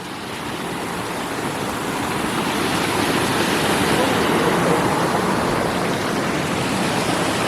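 A waterfall roars in a steady, dense wash of rushing water, loud and close, swelling slightly as it continues with no pauses.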